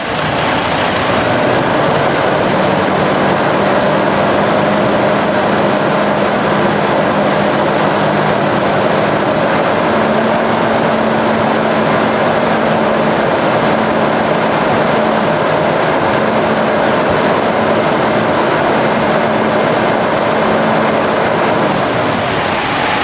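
A car engine idles with a steady low hum, then is revved a little, the tone rising and holding higher before settling back, loud and continuous with no one talking.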